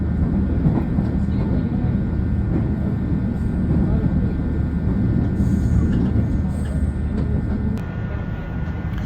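An express train on a line near Uji, Japan, rides along its rails with a steady, heavy rumble and clatter heard from inside the carriage, and faint voices sit beneath it.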